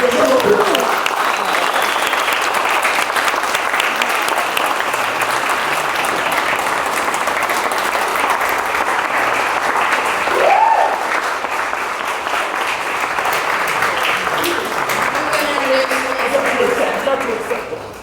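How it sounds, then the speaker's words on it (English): Sustained audience applause at a political fundraiser for an Iowa state representative, steady and full-bodied from a room of people, with scattered voices and cheers mixed in, tapering off near the end. "Let's give her a wonderful hand."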